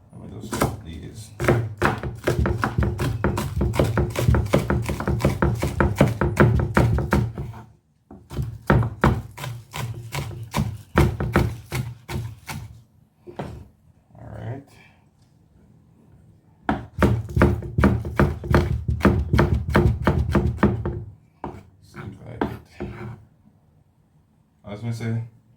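Knife chopping vegetables on a wooden board for a jerk chicken marinade, fast rhythmic thunks in long runs broken by short pauses, close and loud, with scattered slower cuts.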